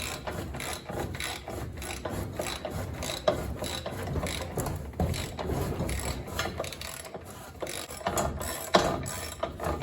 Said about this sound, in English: Let's turn it with a ratchet and see what happens.